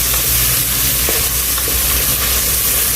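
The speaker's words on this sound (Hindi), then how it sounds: "अब ये 15 काजू इसके अंदर शामिल करेंगे और इसको तकरीबन 3 मिनट के लिए हम दोबारा फिर से भूनेंगे इसी मसाले में" Fifteen ground cashews fry in a mutton masala for a white mutton malai handi, making a loud, dense, continuous sizzle close up with no voices.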